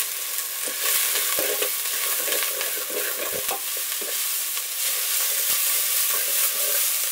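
Onions and carrot tops stir-frying in a pan, a dense continuous sizzle broken by repeated clicks and scrapes of a utensil against the pan, close and fairly loud throughout, with no voices.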